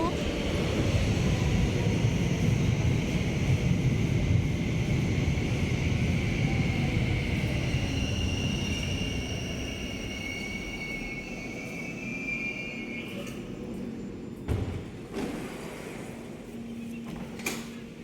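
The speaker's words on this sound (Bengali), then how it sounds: "মেট্রোর জন্য অপেক্ষা করছি এই তো মেট্রো চলে আসলো" A metro train pulls into a station in snowy Belgium: a loud, broad rumble eases down while drawn-out squealing tones from the wheels rise above it, followed by a few clanks as it stops, with some speech around.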